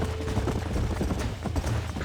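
Horse hooves clattering in a rapid clip-clop gallop through the Red Dead Redemption game world, a steady mid-level rhythm running throughout with a busy low rumble beneath.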